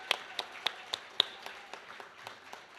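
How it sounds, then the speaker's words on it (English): Applause for the coaches at a high school athletic banquet comes as a short run of evenly spaced, crisp claps that grow softer and sparser, with no one talking. "I just want to start out by giving a round of applause to our coaches."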